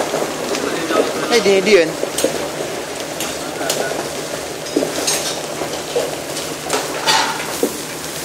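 French fries frying in a restaurant kitchen in Jeddah, a steady crackling sizzle with clinks of utensils and pans, close by, while a voice speaks briefly over it.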